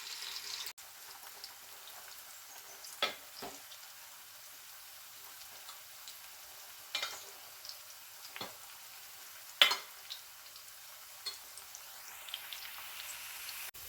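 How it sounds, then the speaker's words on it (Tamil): Food fries in oil, a faint, thin sizzle with scattered soft pops and occasional clinks, quiet and distant with no talk. "எல்லாத்தையும் பொரித்து எடுத்துகிட்டு பார்க்கலாம்."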